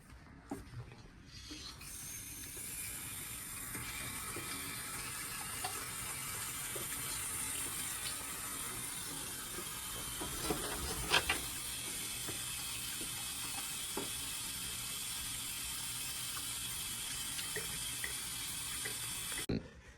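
Tap water runs steadily from a faucet into a sink while hands are washed, a continuous hiss with occasional rubbing and clicks, fairly close and with no talk over it.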